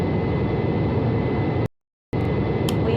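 Airbus A350 airliner engines at takeoff in a flight simulator game produce a steady, loud roar with a faint high whine. The roar cuts out completely for a moment and then resumes, with no talk.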